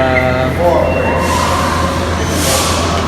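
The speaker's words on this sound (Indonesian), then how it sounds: "kita mau naik kereta Metrolink Antelope ke" Metrolink commuter train on the Antelope Valley line at Los Angeles Union Station, a steady low rumble of the train with a squealing tone early on and a rising hiss of air brakes or vents, loud and continuous.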